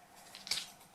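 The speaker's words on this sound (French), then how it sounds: "Je coupe." A single quick snip of scissors through wool yarn for an autumn pompom hedgehog craft, close and soft, over a quiet room hush.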